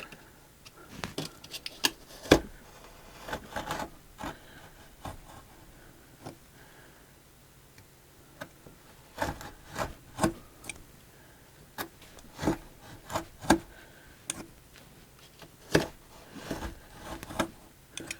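Knife working through foam packed with tough Sculptamold, a series of short scraping cuts and snaps in irregular bursts, close and fairly quiet, with a lull midway before steady cutting resumes.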